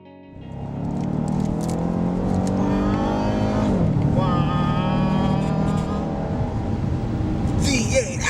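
A 2015 Chevy SS V8 engine roars and revs hard, rising in pitch as it accelerates, loud and sustained, with a brief voice near the start.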